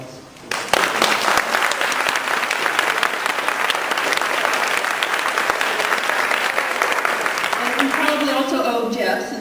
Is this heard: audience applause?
yes